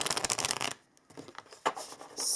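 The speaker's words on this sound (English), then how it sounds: "shuffle a couple of more times here, there, and then we pull some cards for you" Tarot cards being shuffled, with a dense run of rapid riffling flicks at the start, a pause, then scattered softer shuffles and slides of the cards close by.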